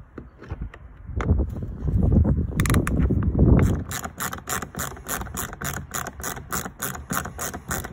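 Ratchet spanner undoing 10 mm bolts under a Ford Edge during an oil and filter service, first heavy fumbling and rustling, then a rapid, regular clicking ratchet pawl repeating close by for several seconds.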